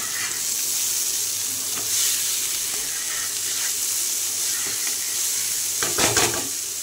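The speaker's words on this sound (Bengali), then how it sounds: "এখানে ফুলকপি ভাজা হচ্ছে।" Cauliflower frying in a pan, a steady close sizzle with bright hiss throughout and a brief louder burst of spattering and a utensil scrape near the end.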